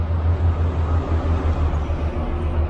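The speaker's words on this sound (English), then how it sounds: "Sorry for the road noise." Steady road traffic noise beside the Susquehanna River, a continuous low rumble of passing vehicles that swells and fades slightly, fairly loud and close with no voices.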